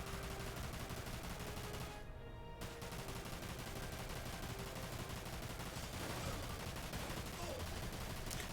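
Steady, dense gunfire from the video game Dirge of Cerberus: Final Fantasy VII, continuous rapid shots filling the clip at a fairly even moderate level, with a brief drop near the two-second mark.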